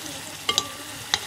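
Food fries in hot oil for a Chinese-style sauce, with a steady soft sizzle broken by a few sharp scraping clicks from stirring.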